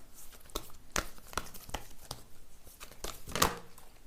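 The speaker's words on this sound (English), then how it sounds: "So I will shuffle some oracle cards for you." Oracle cards are shuffled by hand for a tarot card reading, giving a quiet run of sharp riffling snaps and papery crinkles at an uneven rhythm, close up and with no talking.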